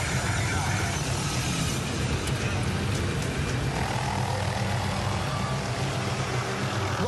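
Helicopter flying over African wildland, a steady loud rotor and engine roar that fills the whole stretch without pause, with someone talking over it.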